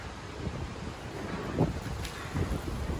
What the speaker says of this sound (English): now it's got super, super windy